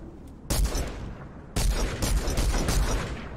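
Dense bursts of video game gunfire in a Fortnite-style duos match, rapid overlapping shots and booms in two loud volleys, the second longer and sustained, close and busy with no talk.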